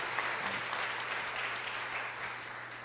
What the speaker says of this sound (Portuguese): Vamos dar incentivo, uma salva de palmas